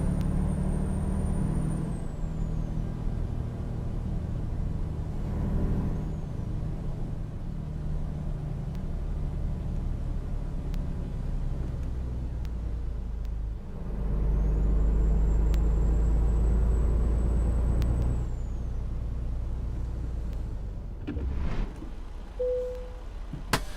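A heavy truck in American Truck Simulator pulls into a rest area and parks, a steady loud engine rumble that swells midway and ends with a short air-brake release, with no talking.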